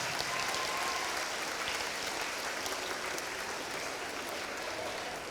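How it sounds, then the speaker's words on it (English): School students applaud together after a reading challenge, a steady wash of many hands clapping that holds at an even level for several seconds with no voices rising above it. "Give yourself a round of applause."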